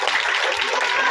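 Children clapping together at a school Teachers' Day event, a dense, steady burst of applause filling the short moment at close range.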